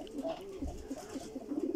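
A pigeon coos in soft, repeated low notes, a fairly close, steady rhythmic series of short calls over a faint background.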